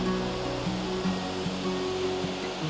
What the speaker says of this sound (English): there's this pretty awesome waterfall that I like to take a look at every time I come.